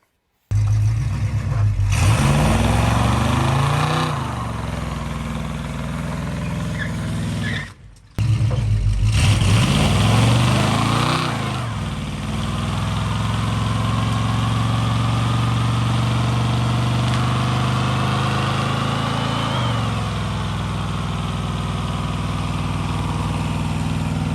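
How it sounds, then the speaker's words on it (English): An old Buick Skylark engine revs hard during a burnout at a car meet, its loud roar rising and falling with a brief cut and then a sustained high-rpm drone, close and alone. "so he decided he would do a burnout himself"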